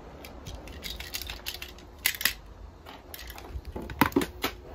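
A reverse camera's small black, yellow and red wires are cut for a car stereo install. A close series of crisp snips and crunchy clicks comes in irregular bursts, with louder cuts near the middle and end.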